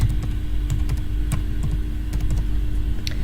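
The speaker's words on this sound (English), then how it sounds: "and then we type in the password" A computer keyboard is tapped quickly to type a password, with sharp irregular keystrokes close by over a steady low background hum and no talking.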